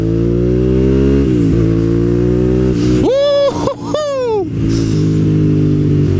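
A Suzuki SV650 motorcycle engine revs up hard in second gear, rising pitch climbing in two quick pulls with a brief shift dip between, loud and close over a steady idle-like drone.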